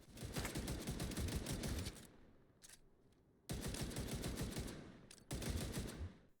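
Avenger marksman rifle firing in The Division 2 during a fight in the Despair Hotel, with dense bursts of rapid, loud shots in long strings broken by short quiet gaps and a few isolated cracks.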